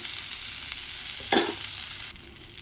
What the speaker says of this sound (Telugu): బాగా కలుపుకున్నాము